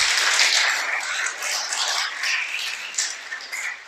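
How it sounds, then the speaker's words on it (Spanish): Audience applause in a religious gathering, dense clapping from many hands, loud and sustained, then gradually thinning toward the end with no voices over it. "Dale un aplauso al Creador."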